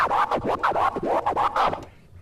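Record scratching, with rapid back-and-forth scrubbing chopped into short bursts by quick fader cuts, loud and busy, then fading out.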